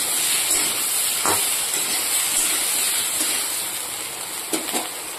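Potatoes sizzling in a hot pan with cauliflower that was lightly fried beforehand, giving a steady, close hiss of frying oil with a couple of soft knocks against the pan.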